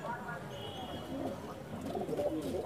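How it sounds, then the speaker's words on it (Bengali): Pigeons in a loft of high-flying Giribaj and Madrasi birds give soft, low murmuring coos that run steadily under a continuous background, with some human voice faintly mixed in. "দাদার কাছে খুব সুন্দর সুন্দর জেনারেশনের কবুতর রয়েছে"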